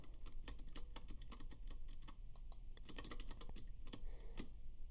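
Computer keyboard keys are pressed while a Scratch free-kick game is played, giving rapid irregular clicks at close range that are fairly quiet and continuous.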